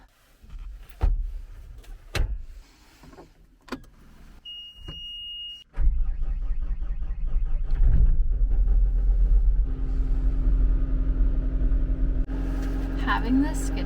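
Skid steer fitted with forks rumbles up close after a few knocks and a short electronic beep, its engine running loud and steady while moving heavy material.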